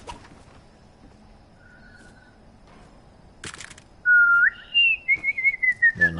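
A person whistles a loud, close melodic tune in short sliding phrases during a Fortnite live stream, with quieter game noise and a sharp click beforehand.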